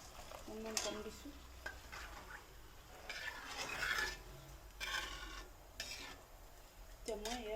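Water poured into hot masala in a pan for a masala paneer curry, giving bursts of sizzling and scraping as it is stirred, with a brief voice at the start and end.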